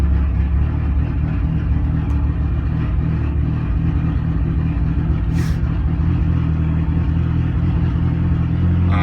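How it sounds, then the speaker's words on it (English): A 1999 Mitsubishi Eclipse GSX AWD engine idles loud and close after a cold start, running rich with a steady deep throbbing rumble and uneven low pulses throughout, without talk. "That is a cold start, my friends."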